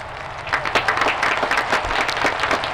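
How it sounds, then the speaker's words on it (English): A short burst of scattered crowd applause at a conference, many hands clapping in a dense, uneven patter at moderate distance, heard on its own. "oh, that's people clapping."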